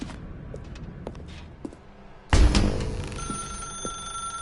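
In the video game The Stanley Parable, a telephone bell rings out abruptly after quiet footsteps and soft room noise, loud and sustained as it continues ringing.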